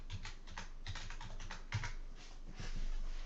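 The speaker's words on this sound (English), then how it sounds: "now we're going to type the flat shot command" Computer keyboard keys tapped while entering a command in CAD drafting software, a quick irregular run of close, light clicks with a slightly busier burst near the end.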